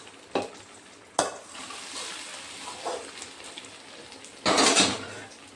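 Several mixed vegetables are stirred with oil in a container using a utensil, giving sharp clinks and scrapes against the vessel, a soft sizzle between them, and a louder scraping burst near the end.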